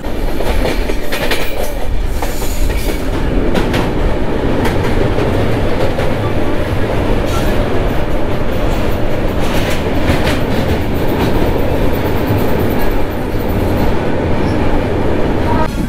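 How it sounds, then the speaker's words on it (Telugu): The Navajivan superfast express train rumbles loudly along the tracks near Krishna Canal Junction, with a steady roar and rhythmic clattering of wheels throughout. "కృష్ణా కెనాల్ జంక్షన్ దగ్గర చాలా స్పీడ్లో ఉంది ట్రైన్"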